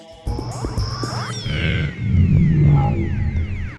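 A clawed monstrous creature's growling, screeching voice from a Bionicle video game, loud and close, with swooping pitch sweeps and a deep rumbling underlayer.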